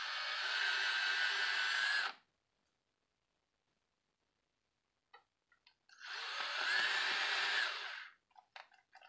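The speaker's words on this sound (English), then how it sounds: "So I'm gonna continue to drill through, once again, holding everything on a slight angle." A cordless drill bores through plastic on a Vaterra K10 Ascender RC crawler in two whirring bursts, loud and close, separated by a silent pause with a few small clicks and handling noises.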